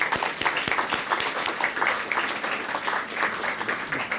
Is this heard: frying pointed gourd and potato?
no